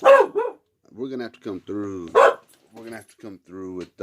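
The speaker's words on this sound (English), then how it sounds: "I'm sorry, that was my dog barking." A dog barks in short, sharp yelps that break into a man's speech, the barks close and loud between his phrases.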